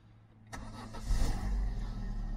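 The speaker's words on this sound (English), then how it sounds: "So start the car up." A 2006 Vauxhall Corsa engine cranks briefly after a quiet start, catches, then settles into a steady, close idle.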